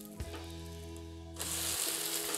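A cheese uttapam is flipped on a hot pan; a low hum gives way after about a second to a steady, bright sizzle that continues close up to the end.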